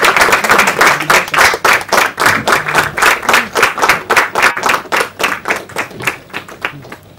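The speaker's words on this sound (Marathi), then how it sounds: "त्यांच्यासाठी एक जोरदार टाळ्या वाजवा." An audience at a Marathi film trailer launch claps in unison for guests called to the stage. The loud, rhythmic beats are evenly spaced, about four per second, and carry on throughout.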